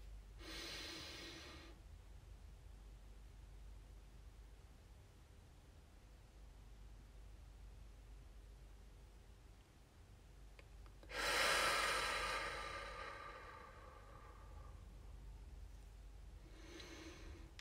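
Slow breaths taken during a relaxation breathing exercise: a short airy inhale at the start, a longer, louder drawn-in breath near the middle, and another beginning at the end, separated by quiet pauses.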